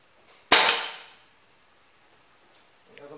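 A pellet rifle fires once at targets roughly 30 yards away, a sharp close crack with a thumping body that decays quickly, followed by quiet and a faint later clink.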